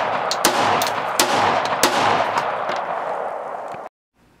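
A PA-63 Makarov pistol in 9x18 fires a few sharp, loud shots with several seconds of echoing range noise between them before the sound cuts off abruptly.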